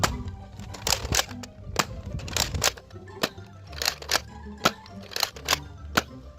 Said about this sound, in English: It seems to shoot the waffle head darts pretty well.